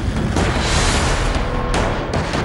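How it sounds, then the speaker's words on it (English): Heavy booming blasts from a Chinese army artillery and rocket drill on the Tibetan plateau roll and rumble continuously, with deep low-end thunder and echoing reverberation. "explosions echoing somewhere on the Tibetan plateau"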